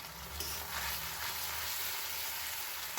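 Green chili paste fries with spices in a pan while cooking a country chicken kosha curry, giving a steady, close sizzle with faint stirring.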